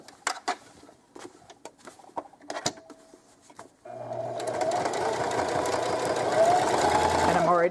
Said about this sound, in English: just a plain old straight stitch sewing machine.